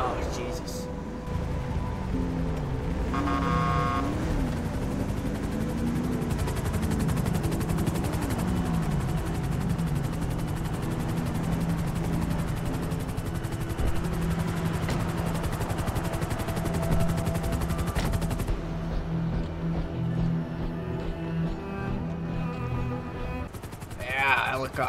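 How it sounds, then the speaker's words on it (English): A helicopter flies in the GTA video game, its steady rotor and engine drone running loud and continuous throughout, with bursts of gunfire and game noise layered in and someone talking over it. "Helicopters. Love helicopters."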